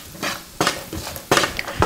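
Garlic and other ingredients stirred around a pan in butter, with three bursts of scraping and clattering as a utensil pushes them across the pan, close and fairly loud, with faint sizzling in between.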